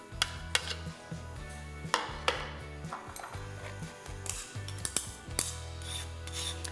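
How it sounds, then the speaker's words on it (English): Blackberry puree worked through a metal strainer with a spoon to remove the seeds, producing repeated close scraping and rubbing strokes with light clinks against the bowl. "we're going to take the mixture and pass it through a strainer"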